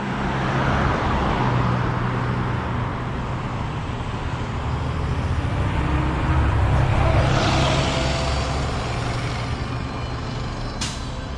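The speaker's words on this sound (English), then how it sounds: "So this big truck that's across the road now" A big truck rolls through traffic at a street intersection, a loud continuous engine and tire rumble that builds and lingers, with a brief hiss near the end and no talking.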